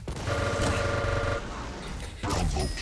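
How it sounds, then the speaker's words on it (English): A lightning gun's steady buzzing hum followed by a sharp railgun shot in a fast-paced arena duel, loud and close, with a voice talking over it. "That LG into rail combo"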